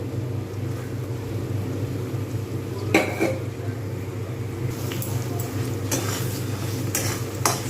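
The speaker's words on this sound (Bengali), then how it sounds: "এবারে আমি এর মধ্যে দিয়ে দেবো প্রথমে নারকেলটা দেবো" Grated coconut for sesame-coconut laddu goes into a pan and gets stirred, with scattered scrapes and utensil clinks over a low steady hum.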